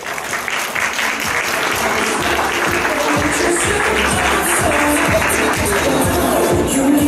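Audience applause welcoming a guest at a Thai fan meeting, a dense, steady clapping from a large crowd that fills the whole stretch with faint cheering mixed in.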